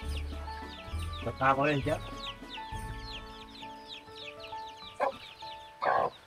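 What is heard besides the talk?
chickens clucking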